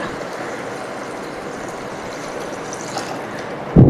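Water pours steadily into a pan of ridge gourd curry cooked without masala, a close continuous trickling wash that ends with a brief knock.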